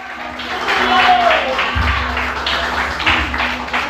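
A church congregation breaks into applause during a worship service, a broad, steady wash of clapping filling the space for several seconds, with a low rumble underneath.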